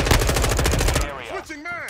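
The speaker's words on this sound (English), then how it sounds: "The Glock's actually really good." A Glock pistol fires a rapid, loud, close burst of shots in Modern Warfare 2 multiplayer Invasion mode on PC. The shots last about a second, then a voice starts talking.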